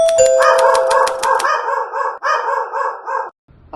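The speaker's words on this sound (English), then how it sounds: "That's my daughter Emma's dog." A dog barking in a quick, loud, close run of sharp yips and woofs, about a dozen in a steady rhythm, breaking off abruptly into brief silence.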